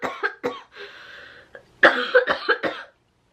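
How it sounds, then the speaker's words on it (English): A person coughs repeatedly in two bursts: a few sharp coughs with a longer rasping one, a short pause, then a louder cluster of close coughs before silence. "My body literally coughing"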